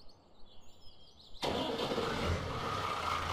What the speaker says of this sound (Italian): mi sono messo a modificare l'audio del, della partenza del Fiat 8090 allora di norma dovrebbe partire così